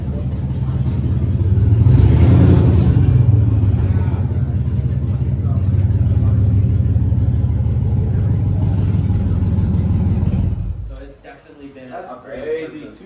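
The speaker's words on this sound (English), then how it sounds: "My exhaust leak is finally going to get fixed" Dodge Hellcat engine with an exhaust leak, loud sustained revving and rumbling that swells early and holds for about ten seconds before dropping away, with voices in the background.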